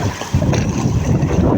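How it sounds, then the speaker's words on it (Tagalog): Strong wind sweeps over a small fishing boat at sea, loud gusty buffeting close to the microphone with a low rumbling roar. "Lumakas na rin ang hangin."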